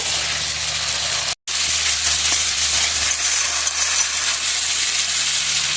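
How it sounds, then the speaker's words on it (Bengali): Fish curry masala and vegetables sauté in a pan over a homemade clay stove with a loud, steady close sizzle and hiss, a brief silent cut, and occasional stirring scrapes. "এবার একটু ভালো করে কষিয়ে নেব।"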